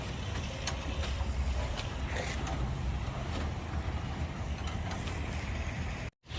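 Mechanical creaking and grinding from the cable winch as the spare tire is cranked down from beneath a Cadillac Escalade, steady and close, running continuously before a brief dropout near the end.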